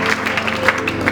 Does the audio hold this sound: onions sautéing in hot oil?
no